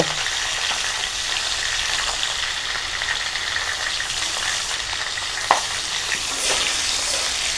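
Potatoes lightly frying with salt and turmeric give a steady close sizzle and crackle, with occasional stirring knocks from the pan and no voices.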